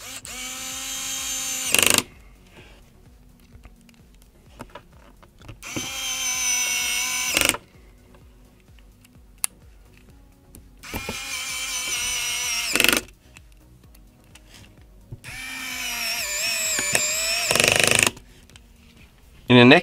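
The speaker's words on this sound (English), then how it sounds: "For the next step, we now screw the four screws of the LCD inside." A power screwdriver driving the four LCD screws during an iPad 6th–9th generation repair, four separate whirring bursts of a couple of seconds each with quiet pauses between, close to the microphone.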